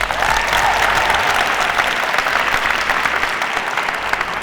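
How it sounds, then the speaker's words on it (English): A crowd at a youth expo panel session claps for Ayanda, a brief burst of steady, close applause from the audience with no voices over it. "So a round of applause please for Ayanda."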